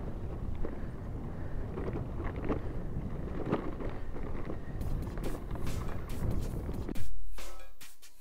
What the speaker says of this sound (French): Voilà le vent.